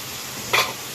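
Chunks of chamagada (taro) fry in oil in a pan, a steady sizzle with a short scraping stir of the spoon midway through.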